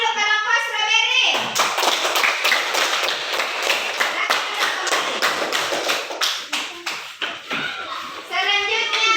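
Classroom applause for a student group: a burst of many hands clapping steadily, loud and close, with children's voices speaking before and after.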